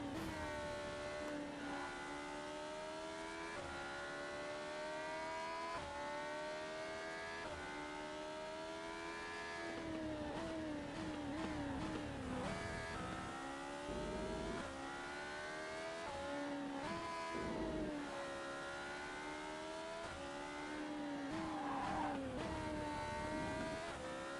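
An open-wheel race car engine lapping in the Monoposto racing game, a loud continuous high-pitched whine that climbs through the revs, drops sharply at gear changes and braking, then rises again, with no talk over it.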